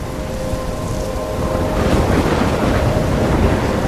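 A storm in the video game Life Is Strange, with a continuous loud roar of wind and rumbling thunder, a steady wash of noise that grows slightly heavier midway, without speech.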